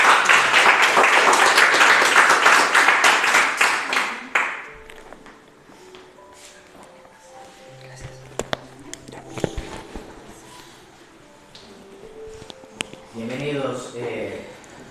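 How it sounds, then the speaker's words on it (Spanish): A church congregation applauds at an evangelistic service, a dense burst of clapping in the opening four seconds that cuts off abruptly, followed by scattered taps, footsteps and a voice. "Demos un aplauso al Señor."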